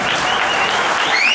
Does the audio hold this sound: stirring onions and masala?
no